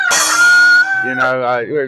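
A rooster crows loudly and close, a single strained cock-a-doodle-doo that wavers and breaks at the end.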